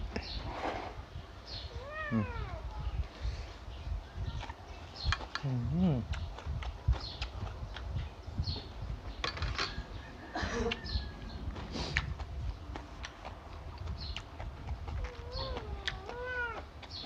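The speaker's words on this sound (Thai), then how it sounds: "แมวมาสองตัวเนาะ" Two cats meow repeatedly in an outdoor home kitchen setting, with rising and falling calls scattered throughout, fairly close, over steady background noise and occasional voices.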